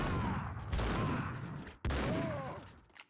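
Shotgun blasts in the video game Max Payne 2: two heavy, booming shots about a second apart, each followed by a long decaying rumble and echo.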